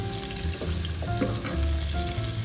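Chicken curry sizzles in a hot pan, a loud, steady frying crackle with occasional stirring scrapes and clinks and no talking.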